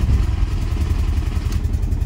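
A swapped TDI diesel engine runs in a car, a loud close low-pitched rapid clatter and rumble holding steady throughout.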